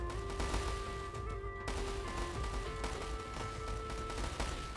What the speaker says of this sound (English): Meet the hand cannons.